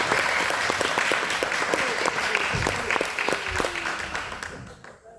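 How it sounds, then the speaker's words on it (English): Audience at a city council candidates' debate applauding, dense sustained clapping that fades out near the end. "Please give another round of applause."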